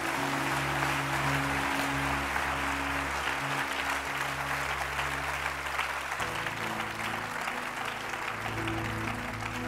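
A church congregation claps and cheers in acclaim of Jesus, a dense, steady wall of applause filling the hall for the full stretch, with sustained organ-like tones underneath.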